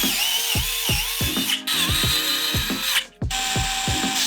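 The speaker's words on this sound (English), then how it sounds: "thing I really like about this screw gun is it's never too tight" Cordless screw gun driving screws back into a Onewheel GT board after a bearing change, a rapid clutch ratcheting that clicks in quick bursts with brief pauses between screws, close and loud.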